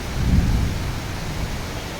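Heavy rain pours down while floodwater rises in Kamareddy. The wash of noise is loud and steady, with a deep rumble swelling briefly near the start, and no voices.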